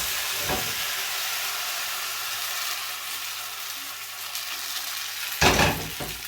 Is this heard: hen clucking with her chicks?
no